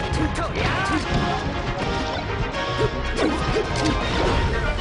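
Hard smash and whack impacts from down smash attacks in Super Smash Bros. Melee, a Falco teams match, come in quick bursts with swishes amid constant game noise and excited commentary voices.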